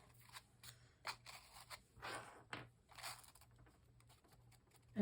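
Scissors snip paper to trim a handmade Snow White peek-a-boo flappy folio, a run of short, close, crisp cuts with light rustling and scraping of the paper between them.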